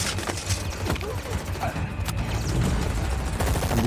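Gunfire from an action movie scene, dense bursts of shots ringing out over a loud, busy soundtrack with impacts kicking up sand, fairly continuous throughout.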